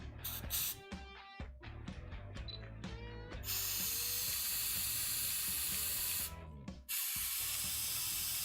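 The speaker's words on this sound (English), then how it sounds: "these spray duster things are like cheap" Short mechanical clicks lead into a can of compressed-air spray duster hissing in long continuous bursts, loud and close, with a brief pause between two sprays and no talking.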